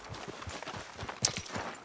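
A horse's hooves clip-clop in Red Dead Redemption 2, a close, steady walking rhythm of soft thuds with one brighter jingling tick midway.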